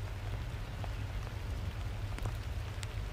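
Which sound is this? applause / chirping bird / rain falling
rain falling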